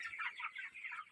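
Chickens on a poultry farm cluck and chatter in quick, overlapping bursts, a busy flock heard close by without any talk.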